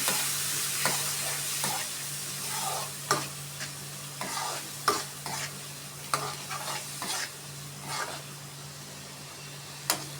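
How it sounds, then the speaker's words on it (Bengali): Long beans with shrimp, turmeric and salt sauté in a pan, a soft continuous sizzle broken by repeated spatula scrapes and stirring strokes at an irregular pace, with no talking. "দেখতে পাচ্ছ এবার ঠিক আমি এক থেকে দেড় মিনিট কষাবো"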